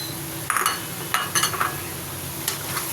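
Carrots stirred and frying in a pan for chicken macaroni, a steady low sizzle broken by a few bright clinks of a spoon scraping the pan, close and alone.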